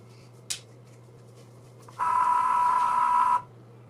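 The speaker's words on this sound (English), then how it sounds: "In goes my blade after everything is put back together. On goes the machine." A Cricut Joy cutting machine, newly refitted with a replacement rubber roller and blade, switches on with a click and then runs with a steady electronic whirr and hum for about a second and a half before stopping, close and alone.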